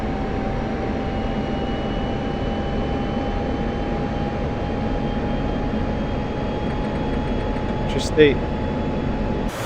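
Jet engine drone in the DCS flight simulator as the throttle comes up, a steady loud hum throughout under radio chatter, with a short click near the end.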